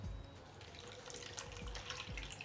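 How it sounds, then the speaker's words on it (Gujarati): Fresh coriander is rinsed in water in a kitchen while preparing muthiya dough. Faint splashing and trickling water continues throughout, with soft sloshes. "પાણીમાં ધોઈ અને સીધી કોથમરી આવી ગઈ"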